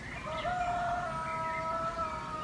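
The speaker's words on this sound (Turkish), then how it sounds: "Horoz da kutluyor bayramınızı." A rooster crows in one long, drawn-out call, fairly close and clear over a steady background hiss, with no talking, during a studio talk show.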